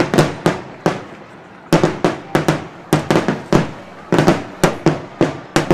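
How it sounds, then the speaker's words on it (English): Fireworks explode during a police-versus-fire department baseball game, a rapid string of loud, sharp bangs in quick irregular bursts with brief gaps. "They're talking about the fireworks show."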